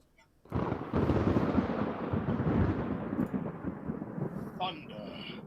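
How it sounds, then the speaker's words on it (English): A thunder sound effect opens a voice-acted reading of Macbeth: a sudden loud crack followed by a long, heavy rumble that slowly fades, heard alone. "Thunder and lightning."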